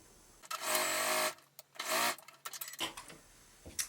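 A sewing machine stitches a diagonal seam joining quilt binding strips for a patchwork hearts quilt, running in two close, loud bursts, with a few quieter clicks and handling sounds between them.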